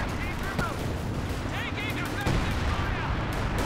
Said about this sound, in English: avoiding that walking Stuka barrage.